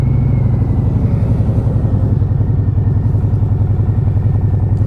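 A 2020 Harley-Davidson Fat Boy with Heinz pipes and Shorty Vents idles loud and close, a steady deep rumbling throb with a fast loping beat that holds for the whole stretch.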